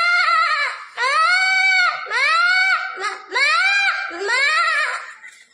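A fifth-grade boy imitates a goat bleating with five loud, quavering bleats in close succession, each rising then falling.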